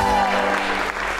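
Studio audience applauding on a Pakistani talk show, a brief, loud burst of clapping with a host's voice carrying over it.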